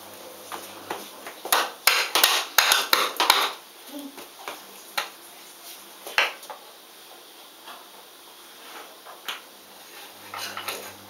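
A new wooden cooking spoon strikes during a makeshift indoor hockey game, giving dry, sharp clacks in quick bursts early on, then scattered single knocks, with voices heard at times.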